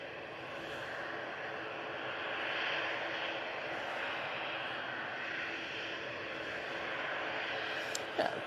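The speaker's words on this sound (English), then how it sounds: "The Air France coming down towards us now, using the Embraer. It's the E190 LR." An Air France Embraer E190 LR airliner descends on approach to land at Manchester Airport, its engines a steady, moderately distant broadband roar that swells slightly midway and holds, with a brief sharper noise near the end.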